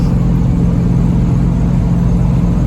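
Steady, loud low rumble of a Dodge Ramcharger's strong 360 engine heard from inside on a brisk test drive, cruising at a constant pace with a dense, unbroken drone.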